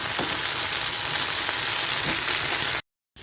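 Okra frying in a pan on a high flame gives a loud, dense, continuous sizzle with faint crackles, cut off briefly near the end before resuming.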